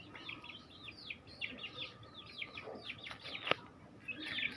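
Native backyard chickens clucking and calling in a quick, busy run of short phrases, fairly soft and close, with a sharp knock partway through.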